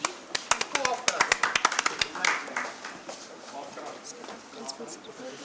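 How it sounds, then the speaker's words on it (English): An audience at a thyroid cancer medical conference at IGIMS Patna gives a brief, scattered round of applause of sharp, sparse claps that fades after a couple of seconds, with a voice speaking over the room. "A big round of applause, please."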